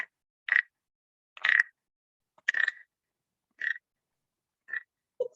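A wooden frog toy gives six rasping croaks, each a short scraped burst separated by pauses of about a second. The croaks are close and loud with no voices.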